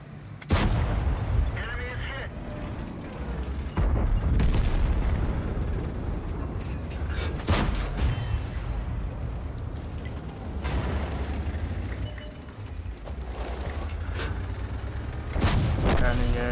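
Artillery shells firing in a tank-battle video game, with loud booming blasts and scattered gunfire bursts recurring over about sixteen seconds, under a steady rumble and intermittent voice chat from players.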